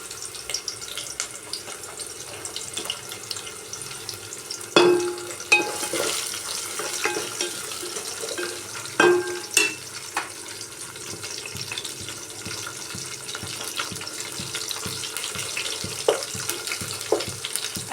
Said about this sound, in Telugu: ఆనియన్ని స్లైసెస్ చేసుకొని ఆనియన్స్ వేసి బాగా ఆనియన్స్ వేగేంత వరకు ఫ్రై చేయాలి